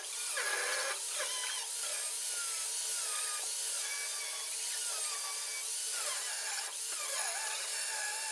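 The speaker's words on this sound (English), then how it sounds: "So now I'm gonna start cutting the U-bolts." On a 1983 square body farm truck, a power tool cuts the U-bolts loose, making a continuous harsh grinding and rasping sound with shifting pitch and brief breaks, loud and close, with no talking.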